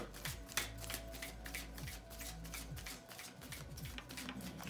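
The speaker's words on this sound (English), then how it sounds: "Okay, we're getting a reshuffle." A tarot deck is shuffled close up, with rapid riffling card flutters repeating in quick bursts and quiet handling sounds between them.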